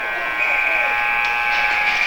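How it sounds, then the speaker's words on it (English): A loud, steady electronic buzzer sounds in an ice hockey arena during a novice game to signal a line change, holding one harsh tone throughout with crowd noise beneath. "And the buzzer goes off to signify a line change."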